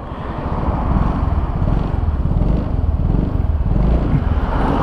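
A Yamaha Fazzio Hybrid scooter idles close by with a steady, smooth, low putter that holds evenly throughout without revving.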